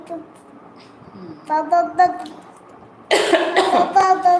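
Several close coughs, a couple of short ones and then a louder harsh burst, with some voiced throat noise between them.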